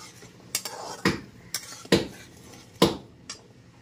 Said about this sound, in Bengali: গুঁড়ো মশলাটা একটু কষিয়ে নেব